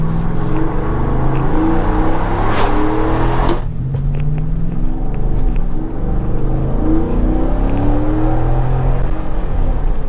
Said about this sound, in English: let's take a ride with the windows open so we can hear that exhaust